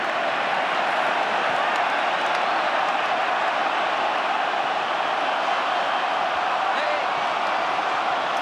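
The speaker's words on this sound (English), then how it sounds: "the crowd are baying for the All Blacks to have the last say here" A rugby stadium crowd roars for the All Blacks against the Wallabies at a 2014 Bledisloe Cup match, a dense, unbroken wall of distant cheering and noise that holds at a steady level throughout.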